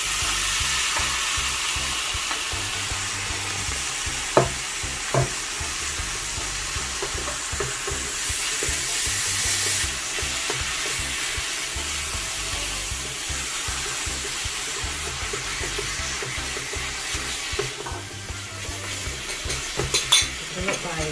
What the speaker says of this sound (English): now I'm going to add my beef